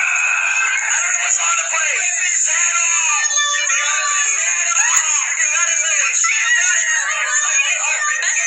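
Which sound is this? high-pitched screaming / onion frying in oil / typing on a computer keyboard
high-pitched screaming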